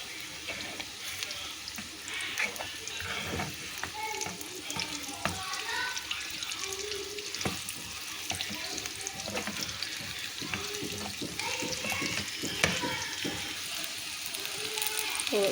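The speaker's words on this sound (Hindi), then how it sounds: "साइड चेंज करने के बाद हम इसे पानी थोड़ा सा लगा के इसे पका लेंगे अच्छे से।" Chicken momos fry in a pan as a little water is added, giving a steady crackling sizzle with occasional splashy bursts and hiss that fill the whole stretch at moderate loudness, with no talk over it.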